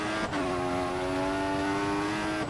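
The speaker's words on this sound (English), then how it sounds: "We are going to be cranking the engine into rich mode and just putting the pedal to the metal here" Formula 1 car engine in the F1 2014 racing game at the Italy circuit, a loud sustained high-pitched whine holding steady at full throttle, with a brief dip near the start and another at the end.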